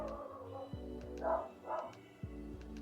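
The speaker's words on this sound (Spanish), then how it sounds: "Se puso a ladrar el perro." A pet dog barks in a home, giving a couple of short, fairly faint barks over a low background hum, with no talking.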